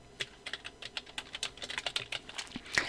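Quick, uneven keystrokes on a computer keyboard while entering text in Photoshop, light clicks tapping close by in a quiet room for a few seconds, with no talking.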